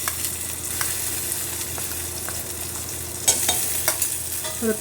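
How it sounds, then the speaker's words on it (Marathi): Onion, tomato and masala sauté in oil in a pan, giving a continuous close sizzle with occasional clinks and scrapes of stirring and no talking. "तो चांगला कांदा तेलात परतून घ्यायचा आहे"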